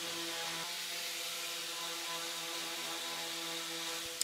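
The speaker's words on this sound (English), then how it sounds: "here I am putting the drawer on top of it and now sanding the drawer" A constant, faint droning hum of a power sander on a wooden drawer runs throughout, with a steady hiss and no talking.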